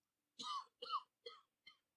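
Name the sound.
cough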